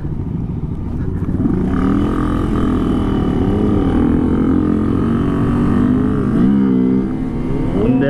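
A motorcycle is ridden at close range, its engine droning loudly and steadily with gentle swells and dips in revs, plus wind and road rumble throughout.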